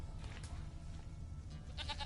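Goat bleating in the Witcher 3 video game, a few faint wavering cries over a steady low ambient hum, with a brief higher burst near the end.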